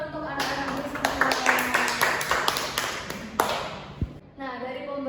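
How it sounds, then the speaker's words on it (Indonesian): A classroom of young Muslim students claps together, a dense burst of many hands lasting about three seconds before fading out, followed by a few sharp taps and a voice speaking. "Tepuk tangan untuk anak-anak Muslimah."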